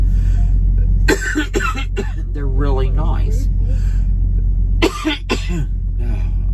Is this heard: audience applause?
no